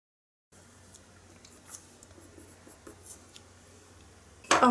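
Colored pencil scratching and blending on paper, a quiet, close scraping with small strokes, then a sudden louder rustle at the end.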